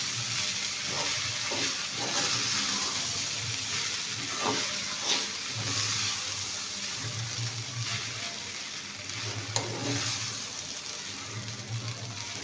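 Sabudana khichdi of sago pearls, crushed peanuts and potato being stirred in a pan, a soft continuous sizzle with scraping strokes in uneven rhythm, close and fairly quiet.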